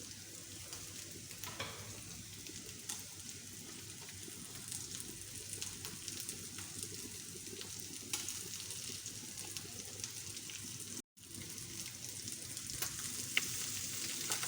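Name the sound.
sautéing carrots, green peppers and whole red chillies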